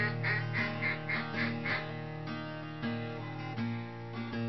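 A TNT Custom Calls duck call is blown in a run of rapid, nasal quacks, close and clear, with the notes rising and falling in a steady series and no voices.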